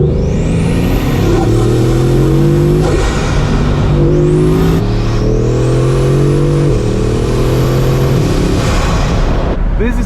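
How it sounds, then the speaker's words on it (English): A 2026 Bugatti Mistral with its 1600 hp W16 engine accelerates hard from inside the car, the loud engine note climbing through several gears in repeated rising sweeps over steady road and wind roar. "We will be driving the all-new 2026 model Bugatti Mistral"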